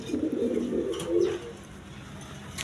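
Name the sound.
satin pigeons cooing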